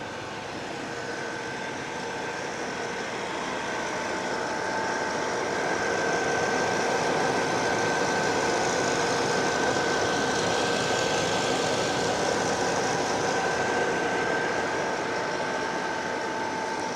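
1996 Chevrolet Impala SS engine running steadily at idle, a continuous low rumble with a faint steady whine, swelling slightly in loudness then holding, close and without talk.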